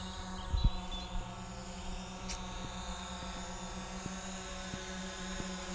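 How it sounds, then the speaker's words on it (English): A DJI Mavic Pro drone hovers and flies overhead outdoors, giving a continuous steady whining buzz of small propellers that holds at moderate level throughout, with a few faint thuds early on. "So if you look up at the actual drone,"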